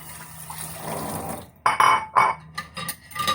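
Dishes and plates being rinsed under running water, with a steady faucet stream and several clinks and clatters of plates and cutlery, fairly close.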